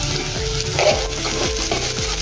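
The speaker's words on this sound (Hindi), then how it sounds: "ये देखिए, अच्छे से भून गए हैं अपने प्याज, लहसुन और अदरक।" Onion, garlic and ginger frying in a pan for stuffed eggplant, a steady close sizzle with repeated scraping strokes of stirring at a regular rhythm, no voices.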